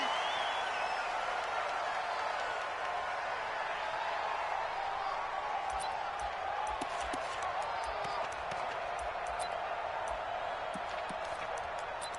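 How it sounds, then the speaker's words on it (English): Raucous stadium crowd in an American football video game on PS4 at the opening kickoff, a steady loud roar of cheering throughout with sharper claps and hits near the end, under commentary. "in front of a raucous crowd, this one is underway."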